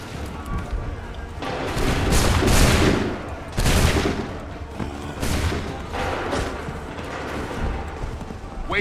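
Musket volleys in Assassin's Creed III at the Lexington and Concord battle, heavy loud bursts of massed gunfire rolling in waves over a dense battlefield din, with voices shouting beneath.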